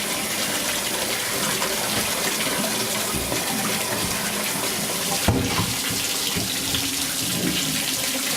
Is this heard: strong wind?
no